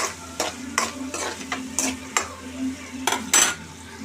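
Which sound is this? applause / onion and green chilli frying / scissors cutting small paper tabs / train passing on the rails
onion and green chilli frying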